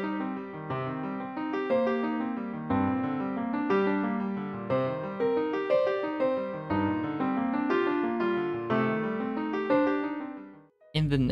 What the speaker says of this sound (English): you can change the left hand from a single chord to a sequence of notes to achieve a sound like this